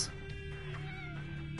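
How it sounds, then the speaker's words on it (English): A pet cat named Smokey gives a single drawn-out meow, close and fairly quiet, its wavering tone stretching across the moment with no talk over it. "my kitty cat wants to come"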